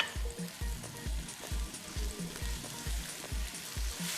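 Olive oil and soy sauce stirred in a hot pan give a steady, close sizzle, with rhythmic scraping strokes of the utensil roughly every half second.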